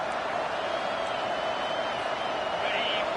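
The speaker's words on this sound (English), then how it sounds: "This crowd bringing the energy and noise early." Steady roar of a packed football stadium crowd at a Clemson versus FSU game, a broad continuous wash of noise holding level throughout with no distinct voices standing out.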